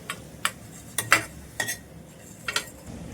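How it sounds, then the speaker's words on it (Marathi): A metal spoon taps and scrapes against a pan or plate as cooked fenugreek greens are served out, giving about six short sharp clinks at uneven intervals over a quiet background. "भाजी चांगली शिजल्यानंतर आपण एका प्लेटमध्ये काढून घ्यायची आहे"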